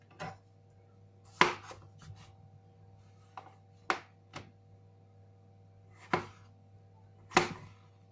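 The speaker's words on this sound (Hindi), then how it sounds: "तो काटते हैं अपने पोटैटोज़।" A knife chops potatoes on a board at home, giving about eight sharp, close knocks spaced irregularly over a quiet background hum.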